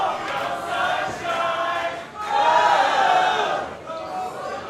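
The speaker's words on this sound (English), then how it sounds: "Crowd loving it here." A pro wrestling crowd cheers and sings along in a loud, swelling roar that rises and falls in waves, filling the arena throughout.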